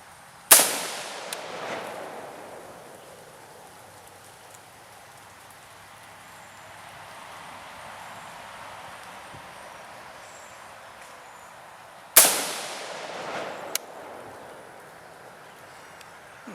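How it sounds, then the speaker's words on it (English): Two loud rifle shots fired at targets outdoors, roughly twelve seconds apart, each a sharp crack followed by a rolling echo that fades slowly, with a faint extra pop after the second and no talking. "Shot at the middle target,"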